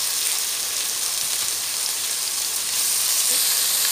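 Chopped tomatoes and onions frying together in a pan for jeera rice, with a steady, dense sizzling hiss that stays even and close throughout.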